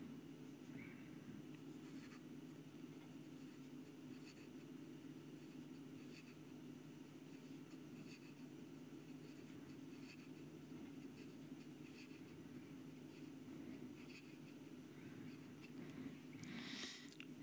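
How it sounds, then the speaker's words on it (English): Quick strokes of a magnetic piston filler fountain pen nib across paper, a faint, continuous scratchy writing sound over a steady low background hum, with no talking. "And some quick writing."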